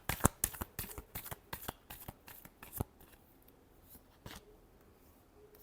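Tarot cards are shuffled by hand in a quick series of crisp riffling snaps for about three seconds, close and fairly quiet, then a few sparse softer flicks trail off.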